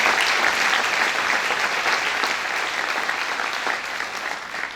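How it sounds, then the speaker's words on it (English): A crowd at the Sunbelt Ag Expo farmer of the year award ceremony breaks into steady, dense applause that holds for the whole span and tapers slightly toward the end, with no voices over it. "Let's give these folks another round of applause for a job well done."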